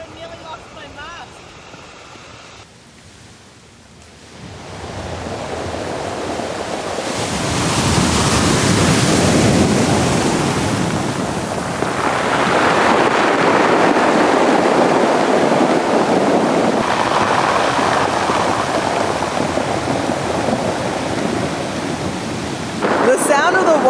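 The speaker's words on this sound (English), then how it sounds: "The sound of the water retreating through the rocks is so good." Waves on a pebble beach pull back through the stones with a loud, steady rushing hiss that swells and holds for many seconds, and a voice is briefly heard.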